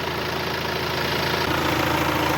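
A 2015 Volkswagen Passat with a 2.0 diesel engine and automatic gearbox idles with a steady, even low rumble, loud and close, running alone without speech.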